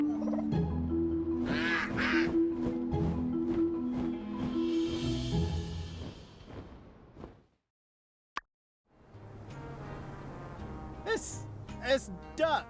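Duck quacking in the video game My Time at Sandrock, honking calls scattered over steady game music, with a person talking throughout and a brief silent gap partway.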